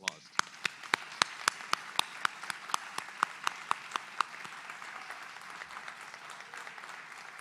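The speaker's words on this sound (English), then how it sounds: "Let's give another round of applause." Scattered audience applause at a College of Education and Human Development commencement ceremony for the class of 2021: sharp, distinct claps from a modest crowd that thin out and fade to a soft patter by the end.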